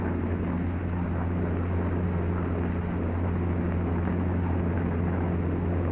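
Steady drone of a P-47 fighter plane engine in flight, a continuous loud low roar with a constant hum and no change in pitch or level throughout, with no voices.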